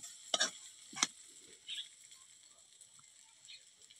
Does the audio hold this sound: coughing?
no